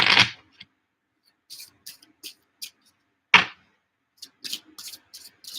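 A tarot card deck is shuffled up close, with an initial riffle, then a run of short crisp card flutters, a second sharp riffle partway through, and more quick flicks toward the end.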